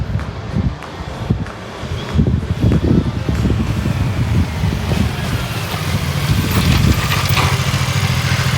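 A BMW 450GS adventure motorcycle engine idles with a steady low rumble throughout, loud and close, with a faint breezy hiss over it.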